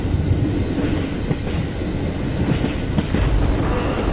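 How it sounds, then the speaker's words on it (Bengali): A cartoon train pulls into a village station on a stormy night, a continuous loud rumbling clatter of wheels on rails heard up close, with no voices. "কিছুক্ষণের মধ্যেই ট্রেন এসে উপস্থিত হলো কৃষ্ণপুরে"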